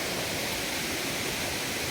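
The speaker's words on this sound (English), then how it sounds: "And on the other side was the waterfall, the Ngenjeru waterfall." Ngenjeru waterfall in Embu, Kenya, heard from inside the Mau Mau cave: a steady, dense broadband rush of falling water, continuous and even throughout with no voices.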